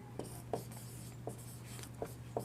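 Chalk or marker writes a statement on a board, with short scratchy strokes at irregular intervals over a steady low hum in a quiet classroom.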